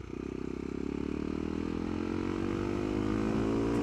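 Engine of a CCM Street Moto R motorcycle revving hard, a loud buzzing note that climbs steadily in pitch, heard close and with no speech.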